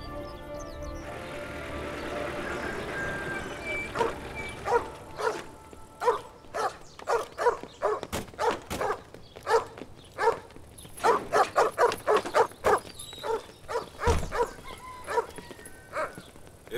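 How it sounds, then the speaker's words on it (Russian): A dog in a Cossack village yard barks repeatedly in quick, uneven volleys at moderate distance, some barks sharp and others yelping, over a faint background. "Собаку-то прибери."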